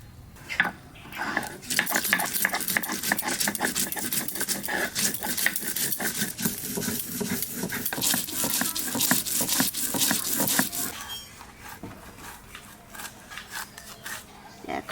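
White and black mustard seeds are ground into a spice paste on a stone, a fast, steady rhythmic scraping and knocking that runs loud and close for about ten seconds before stopping, with a voice faintly present.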